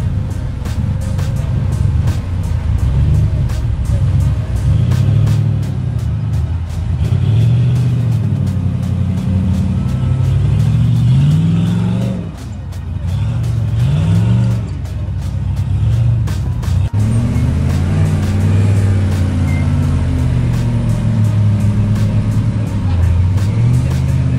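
An off-road rig on the Behind the Rocks trail in Moab revs its engine hard in repeated surges while bumping up a rock obstacle, the rising and falling drone loud and close, with voices heard over it.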